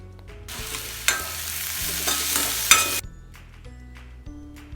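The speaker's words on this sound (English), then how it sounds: "Add 1 full cup of onions. Fry it a little bit." A full cup of onions sizzles loudly in a pan for prawn masala, with bursts of stirring and scraping over a steady frying hiss that cuts off abruptly near the end.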